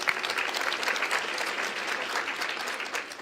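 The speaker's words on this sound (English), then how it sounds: "Round of applause, please." Steady audience applause at a community healing event, many hands clapping evenly and fairly close for about three seconds, with no voices over it.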